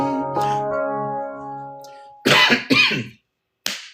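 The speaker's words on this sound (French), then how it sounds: "Je tousse." A held vocal note fades out, then two harsh, close coughs follow, with a short third cough after a brief silence.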